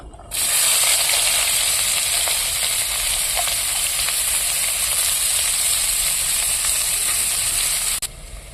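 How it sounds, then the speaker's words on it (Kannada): Chopped onion goes into hot oil already crackling with mustard seeds and curry leaves for an okra fry, giving a loud, steady, close sizzle that hisses without a break for about eight seconds and then cuts off abruptly. "ಆವಾಗಲೇ ಕಟ್ ಮಾಡ್ಕೊಂಡಿರೋ ಈರುಳ್ಳಿ ಹಾಕ್ಕೊತಿದ್ದೀನಿ"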